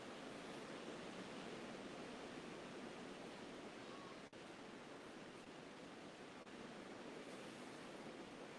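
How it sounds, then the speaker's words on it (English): Gulf of Mexico waves heard as a steady, soft wash of surf, continuous broadband roar without distinct breaks, faint and distant-sounding, no talking. "Listen to the waves out in the Gulf of Mexico"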